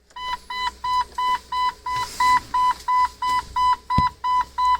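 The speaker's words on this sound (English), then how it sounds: "This thing's gonna keep beeping, beeping, beeping, beeping, beeping." A 1997 Jeep TJ chime beeps in a steady repeating pattern, about a dozen loud, evenly spaced tones in quick succession, close and clear with a faint knock partway through.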